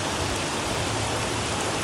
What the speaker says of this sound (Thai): ฝนตกครับสลับแดดออก